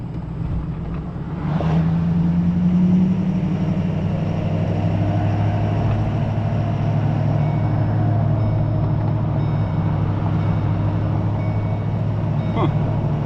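Steady low diesel rumble from a 6.7 Powerstroke pickup truck driving along, droning evenly from inside the cab with a brief rising whine near the start and faint road noise throughout.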